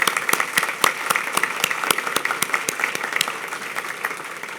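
An audience claps at a lifetime achievement award ceremony, with several sharp, distinct hand claps standing out over a steady, moderately loud bed of applause.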